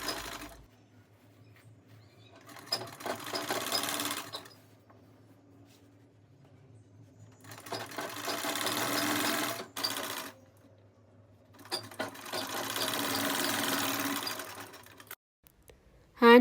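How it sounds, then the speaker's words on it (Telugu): A sewing machine stitches blouse sleeves for a saree-to-lehenga conversion in three loud bursts of rapid whirring needle clatter, separated by quiet pauses, with a faint click at the end. "హ్యాండ్స్ కి రెండు స్టిచెస్ వేసుకోవాలి"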